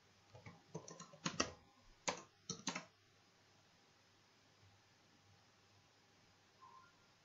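Computer keyboard keys tapped in a short burst of clicks while entering CAD drafting commands, close and fairly quiet, followed by a near-silent pause.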